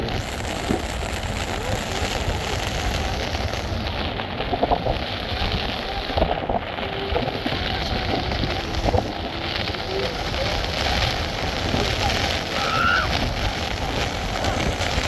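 Heavy rain and wind at Dhanushkodi on the coast make a dense, continuous roar of falling drops and gusts, drumming close overhead as if on an umbrella, loud and unbroken throughout.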